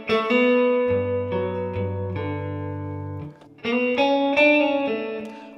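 Electric guitar in a neo soul style plays a lick from a rock song, mixing ringing held bass notes with picked melody and hammer-ons, a short pause near the middle, then a brighter run alone.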